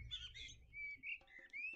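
A bird in a video game chirps and trills in a few short, high, faint calls separated by brief gaps, with no talk over it.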